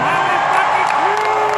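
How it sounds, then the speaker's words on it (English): Concert crowd at a show in Biloxi, Mississippi, cheering and whooping loudly in a steady, dense roar, with a voice over a PA mixed in. "Well, don't cheer so loud"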